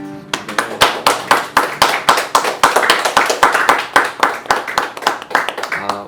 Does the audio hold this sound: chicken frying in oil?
no